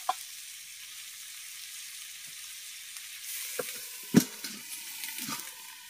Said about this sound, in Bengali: এবার লবণ আর হলুদ দিয়ে ভালো করে পটল আর আলুটাকে ভেজে নেব।